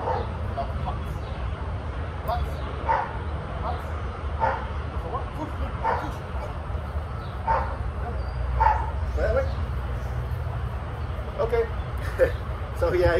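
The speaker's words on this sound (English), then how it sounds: "he likes to pull on a leash, he likes to jump on people, and he likes to bark" A Labrador barks and yips repeatedly in short bursts, with some whimpering between them, over a steady low background rumble.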